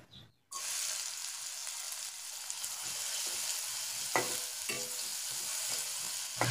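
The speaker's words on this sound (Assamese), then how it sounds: "পিয়াজখিনি অকণমান ভালদৰে ভাজি লৈছো যাতে কালাৰটো চেঞ্জ হৈ যায়" Chopped onions fry in oil in a pan, a steady broadband sizzle that starts abruptly after a brief quiet moment, with occasional stirring clicks and scrapes over the hiss and no talking.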